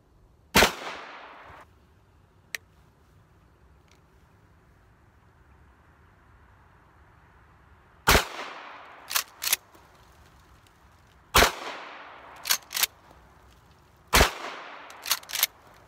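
Loud pump-action shotgun shots with a magazine tube, fired one at a time: a single blast, a long quiet pause, then short clusters of two or three sharp reports, each ringing briefly before fading, with no talking.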